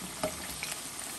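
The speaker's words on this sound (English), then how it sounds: "They've been frying for about 7 minutes or so." Bite-size chicken pieces for Guyanese sweet and sour chicken fry steadily in hot oil, giving a close, continuous crackling sizzle with a few sharper pops.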